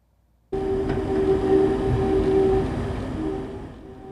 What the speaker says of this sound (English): The Sunset Limited offered all these forms of movement as it rumbled west